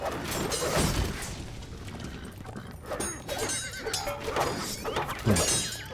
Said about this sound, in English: why are my horses sounding like they are in pain?